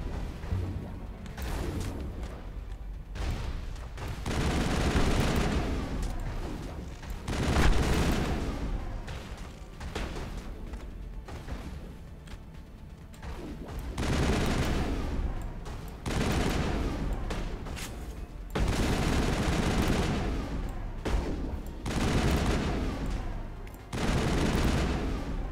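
Gunfire in Mass Effect, sustained volleys of rapid shots and booming impacts coming in repeated waves at close range, loud throughout.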